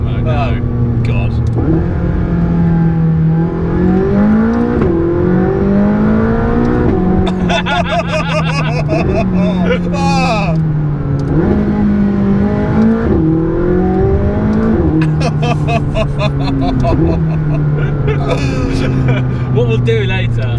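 A McLaren 675LT on its stock exhaust revs hard in repeated climbing and falling sweeps, a loud, close engine wail rising through the range with crackly bursts at the top, while people talk over it.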